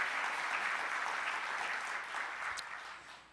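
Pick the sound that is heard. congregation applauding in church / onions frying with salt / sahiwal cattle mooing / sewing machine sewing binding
congregation applauding in church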